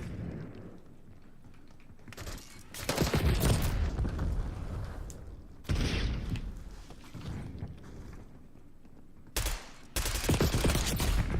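Bursts of video game gunfire and booms come in several loud, dense volleys separated by quieter stretches, with sharp onsets and a rumbling, cluttered battle texture.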